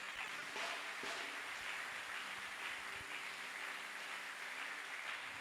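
A church congregation at a special blessing service breaks into sustained applause, a dense even wash of clapping that holds at a steady level throughout with no voices standing out.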